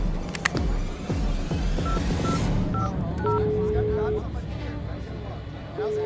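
Dialing tones from a phone in a Roblox game: a short run of steady beeps of shifting pitch, one longer tone held near the end, all over busy background game noise.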